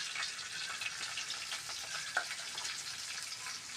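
Cumin seeds crackling and sizzling in hot oil, a dense, even hiss with scattered small pops, close and steady throughout.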